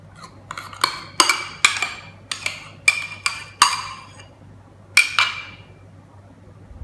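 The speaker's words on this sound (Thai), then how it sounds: "เมื่อแป้งเข้ากับแบตเตอร์ดีแล้วนะคะเราจะผสมส่วนที่เราผสมกับเนยไว้ลงไปค่ะ" A utensil repeatedly clinks against a bowl while cake batter for a strawberry shortcake is mixed with a butter mixture, about a dozen bright, irregular metallic taps close by, with no voices.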